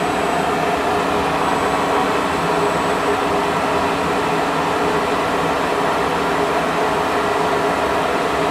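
Slides of a KSI SQC-38 CNC Swiss lathe travel on ball screws, giving a steady, quiet machine hum with broadband whir and no distinct impacts, continuous throughout.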